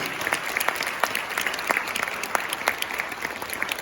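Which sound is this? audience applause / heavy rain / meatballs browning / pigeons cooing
audience applause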